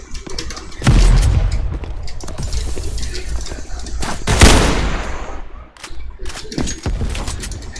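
Video game gunfire crackles in rapid bursts with heavy booming reports, loud and continuous, with a few sharp gaps between volleys.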